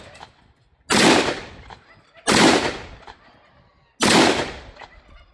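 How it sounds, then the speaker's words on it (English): Three loud, close shots from an M1 Garand rifle firing .30-06 at a large metal target outdoors, evenly spaced about a second and a half apart, each a sharp blast with a decaying echo. "Now I'm going to hit the big target in the middle. The big metal one."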